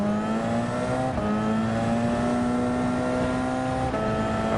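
Gran Turismo 7 prototype race cars, including a 2016 Audi R18, drone at high revs in a sustained engine whine that steps down at gear shifts and climbs again while overtaking, loud and close.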